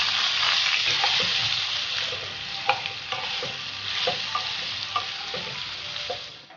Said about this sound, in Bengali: গ্যাসের স্টিমটা মিডিয়ামে রেখে আলুগুলো কিছুক্ষণের জন্য একটু লাল লাল করে ভেজে নেব